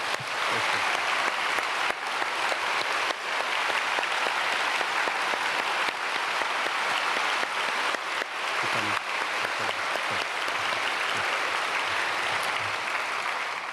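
Sustained applause from a church congregation during a Sunday evening worship service, a dense, even wash of many hands clapping for the full length without a break.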